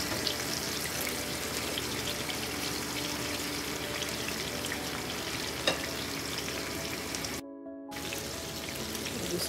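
Fish sizzles and sears in a hot pan for Jamaican brown stew fish, a continuous crackling fry broken by a brief gap near the end.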